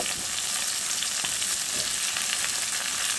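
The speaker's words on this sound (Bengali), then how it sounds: "টমেটোগুলো সব দিয়ে দিয়েছি এখন একটু নেড়ে ছেড়ে দিচ্ছে" Tomatoes fry in a pan with a steady, dense sizzle throughout, broken by soft stirring scrapes at intervals; close and constant with no voices.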